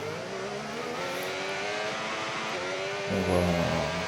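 Racing game cars on a formation lap, a steady engine drone held at moderate revs, then a louder throttle surge near the end, with no voices.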